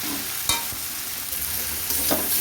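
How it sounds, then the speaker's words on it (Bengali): Spices sizzle and fry in a hot pan with a steady crackling hiss, broken by a couple of sharp stirring scrapes, in home cooking with shrimp. "মশলা ভালো করে ভাজা হয়ে গেছে।"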